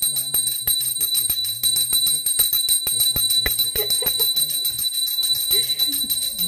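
A small temple bell rings in quick, repeated tinkling strokes during a home puja, close by, with a steady high ringing tone throughout and faint background voices.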